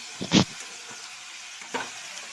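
Potatoes with chopped onion frying in a pan, giving a soft steady sizzle broken by a couple of louder scraping stirs, close by with no talking.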